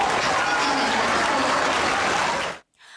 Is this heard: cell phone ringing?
no